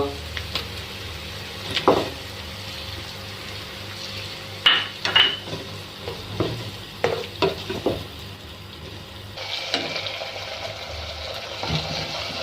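Two finely chopped tomatoes go into a pan of frying green chilies for bhindi masala, giving a low steady sizzle broken by several sharp clanks and scrapes of a spoon against the pan.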